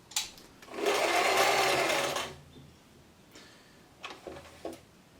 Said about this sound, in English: If we take it back up to 2 and then engage zigzag, there's a zigzag stitch.